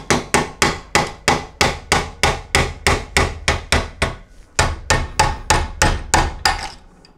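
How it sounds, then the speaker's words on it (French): A Maillard 700 bicycle freewheel struck with a tool in a steady series of about twenty sharp, loud metallic taps, evenly spaced with one brief pause midway, no voices. "Et il ne reste plus qu'à taper un petit peu dessus."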